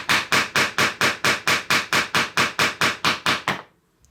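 Mallet blows drive a chisel into wood to chop out a dovetail recess, about fifteen sharp, evenly spaced knocks in steady rhythm, close and loud, then silence.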